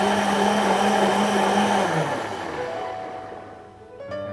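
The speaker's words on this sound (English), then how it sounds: "I love this blender." A blender mixing a ginger tamarind cooler whirs loudly and steadily, then the motor winds down and its pitch drops before a brief whine returns near the end.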